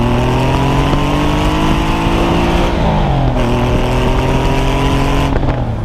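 A Porsche 911 RSR IROC evocation with an original 964 five-speed gearbox bellows loudly through its twin exit exhaust, the engine note climbing steadily, dipping briefly at a gearchange, then rising again without a break.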